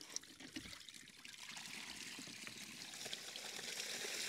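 Water pours and splashes out of a fish weighing basket at a hybrid catfish nursery pond, a continuous rushing trickle that swells gradually and stays close.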